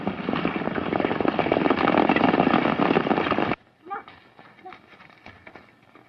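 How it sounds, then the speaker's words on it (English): Horses hooves drum at a gallop in a 1930s Western setting, a dense loud clatter for about three and a half seconds that cuts off abruptly, leaving faint scattered sounds after. "I'll take one of the horses and ride on ahead."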